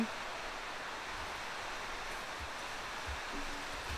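Soft, steady hiss of rainfall in the game Overwatch 2 with a synthetic, even texture, faint and continuous, no voices.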